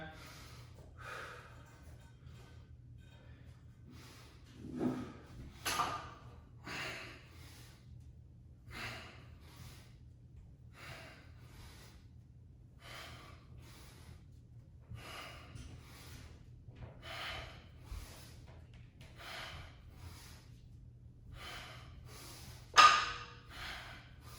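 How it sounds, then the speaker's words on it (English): Steady nasal breathing in and out through the nose during deadlifts, a series of short sharp sniffs and exhales spaced a second or two apart over a low hum, close and fairly faint. "I'm coming in through the nose, out through the nose."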